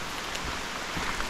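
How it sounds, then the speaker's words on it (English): Rain falling in a Costa Rican rainforest near hanging bridges: a dense, even hiss of drops on leaves and surfaces, steady and close, with no voices. "Yeah, so rain happens."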